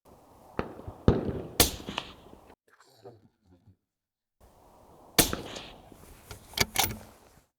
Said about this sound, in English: I mean, that is a pleasant sounding suppressor.